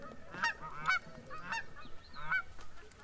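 Dusky Canada geese honk in a rapid series of loud, nasal calls close by, several distinct honks spread across a few seconds with brief gaps between them.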